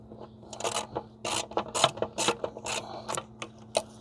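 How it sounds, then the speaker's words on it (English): A torque wrench tightens oil cooler bolts on a Jeep Wrangler JK, with close, quick ratcheting clicks in short irregular bursts and brief pauses between strokes, a faint hum underneath and no talking. "now we're gonna start this torque sequence."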